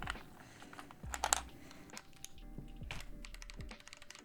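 Quick bursts of clacky keystrokes on an Asus hot-swap mechanical keyboard fitted with swapped switches, close and crisp, with short pauses between flurries and no talking.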